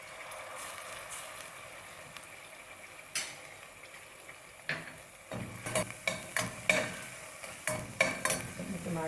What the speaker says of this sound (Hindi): अब हम इसमें अदरक लहसुन डाल देंगे पेस्ट।